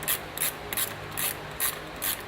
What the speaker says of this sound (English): take your 10mm. These bolts out here. If I can actually get a wrench on there.